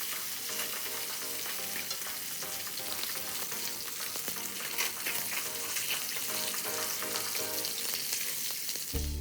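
Pieces of yellowtail sear in a hot pan for surface browning, giving a loud, continuous, crackling sizzle throughout.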